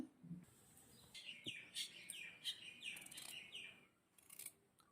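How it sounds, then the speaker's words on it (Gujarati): Birds chirp and tweet in quick, high-pitched bursts, fairly faint and a little distant, against a quiet background. "સવાર સવારનો સમય છે પક્ષીનો મસ્ત અવાજ આવી રહ્યો છે"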